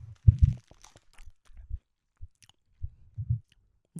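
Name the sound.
chewing sweet food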